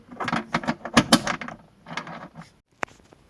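A socket wrench ratcheting a bolt tight through a washer under a floor: close, quick bursts of metallic clicking in uneven runs, then a pause and one sharp click.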